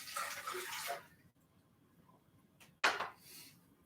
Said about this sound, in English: I add the water into the mix